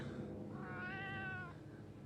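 A single drawn-out cat meow rises and falls at the midpoint, fairly faint and alone over a quiet background hum, heard within a horror story.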